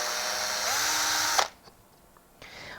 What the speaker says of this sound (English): I can now grab the battery drill and drill my hole